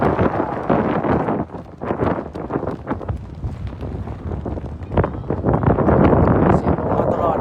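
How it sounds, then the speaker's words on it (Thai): Strong wind buffets an outdoor microphone at an under-10 youth football match in Laos, a loud continuous rumble with gusts, and someone talks over it. "เสียงลมมาตลอด"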